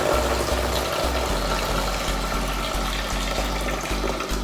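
Tap water running steadily into a pot while rice is washed by hand, a loud continuous rushing under a low rhythmic pulsing hum, no voices.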